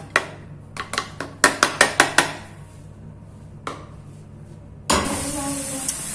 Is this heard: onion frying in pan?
yes